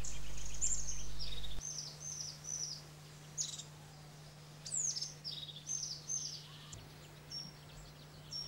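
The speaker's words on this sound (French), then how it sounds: "Également, la mésange huppée." A crested tit singing in Spanish woodland, a series of short high trilling phrases repeated at intervals, fairly faint over a quiet background with a low steady hum.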